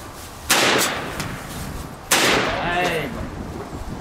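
An M1 Carbine rifle fires two sharp, loud shots about a second and a half apart, each followed by a short echoing tail outdoors. A voice is heard briefly after the second shot.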